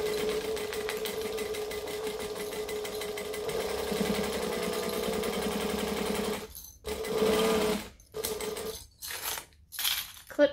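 A sewing machine runs steadily while stitching a backpack, a continuous close mechanical whirr that stops and restarts in several short bursts near the end.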